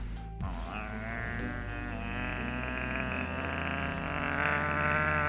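Sheep bleating in the League of Legends game, a wavering nasal bleat over a dense, loud game soundscape with layered tones and effects, continuing for several seconds without talk.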